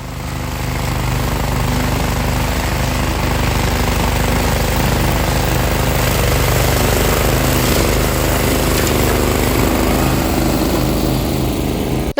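An Ecotech HRT 110 mower powered by a Honda GXV 390 four-stroke engine cuts tall grass, its loud, steady engine drone and rattling blades running continuously and close throughout.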